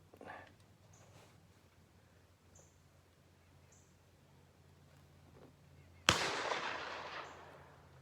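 A single loud rifle shot from a Rock Island 1903 at an outdoor shooting range rings out after several seconds of quiet ambience, its sharp crack followed by a rolling, fading echo.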